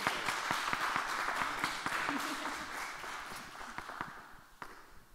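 At a Mercado Chec audiovisual market panel, the audience gives fairly faint, even applause for panelist Daniel González, a continuous patter of claps that gradually fades, with a brief murmur of voice.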